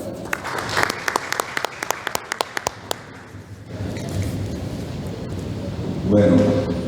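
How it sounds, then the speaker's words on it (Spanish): A few sharp, scattered handclaps from an audience at a municipal reform forum, fading out after about three seconds into a low murmur of room noise. "a quien pedimos un aplauso"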